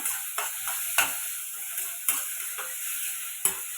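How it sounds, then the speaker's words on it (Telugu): Potatoes frying in a pan for aloo dum give a steady close sizzle with occasional soft stirring clicks and scrapes, no voices. "అది ఆల్మోస్ట్ ఫ్రై అయిపోయింది."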